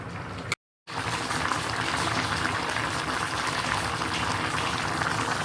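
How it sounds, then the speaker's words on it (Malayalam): Curry with a ground, finely roasted spice paste and cooked pieces bubbles at a steady rolling boil in a pot, a close, continuous burbling hiss broken by a brief gap near the start. "കണ്ടോ, നന്നായിട്ട് തിളച്ച് വന്നിട്ടുണ്ട്."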